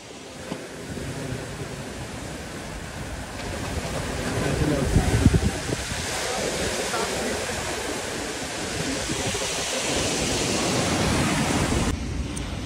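Strong ocean waves break on a shore where people are wading out to fish. The surf makes a constant, loud broadband roar that swells slightly mid-way and continues without pause.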